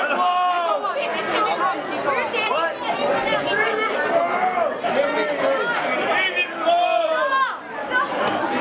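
Crowd shouting and calling out at a wing and beer festival awards ceremony, overlapping loud voices and whoops filling the space continuously, close and lively.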